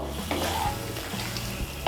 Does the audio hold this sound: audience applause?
no